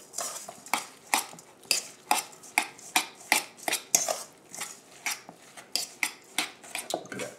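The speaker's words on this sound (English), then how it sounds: "I'm gonna mix all this around," A utensil scrapes and taps around a bowl, mixing salmon cake mixture with egg, scallions, mustard, mayo and Aleppo pepper in a steady rhythm of close clinking strokes about twice a second.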